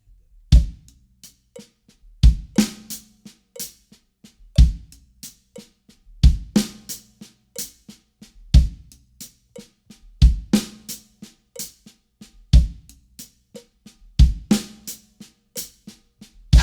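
A drum kit plays a linear triplet groove built from back-to-back double paradiddle groupings, with crisp hi-hat and snare strokes, punchy kick accents recurring about every two seconds, and a steady flowing rhythm heard alone.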